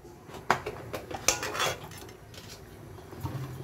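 Fried potatoes lifted out of hot oil with a metal utensil for a biryani: a series of close clinks and scrapes against the pan over a low oil sizzle, irregular and moderately loud, no speech.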